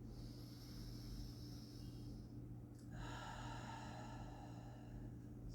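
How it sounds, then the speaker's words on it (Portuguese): A woman breathes in and then breathes out during a short breathing exercise in a quiet room; the breaths are close, soft and audible over a low steady background hum, with no talking. "Respira. Solta o ar."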